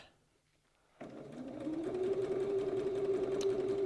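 A sewing machine stitching a quarter-inch patchwork seam, starting abruptly after a brief quiet moment and then running steadily with a close, even mechanical hum and whir.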